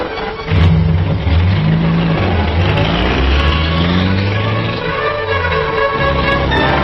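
A remote-controlled car carrying a professor, its doors locked, drives with a steady mid-pitched engine hum and rising revs, near and continuous under tense background music.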